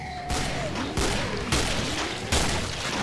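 Pump-action shotgun blasts in the video game Killing Floor sound as a few heavy booming shots roughly half a second apart, loud and close, with game ambience between them.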